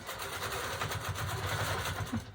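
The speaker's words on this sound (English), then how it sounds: "I'm just going to start stitching again." A longarm quilting machine stitching chenille fabric runs with a steady, close mechanical hum and fast rhythmic needle pulsing, continuous and fairly quiet throughout.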